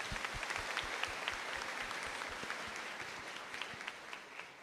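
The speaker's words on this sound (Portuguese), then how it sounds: "uma salva de palmas para ela." Church congregation applauding during a novena service, a soft, distant patter of many hands with a few sharper individual claps, steady and then easing off.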